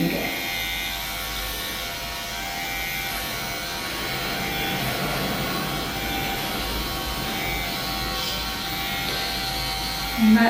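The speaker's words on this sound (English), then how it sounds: "Lots of little needles shooting in and out the tip of the pen" A microneedling pen with 16 needles runs against a cheek, giving a steady, close electric buzz that holds evenly throughout, with no talking over it.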